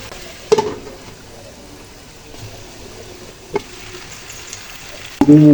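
Fried vegetables cooking in a kadai, with a low continuous sizzle and a few sharp scrapes and knocks of a spatula stirring them, the loudest clatter coming at the very end.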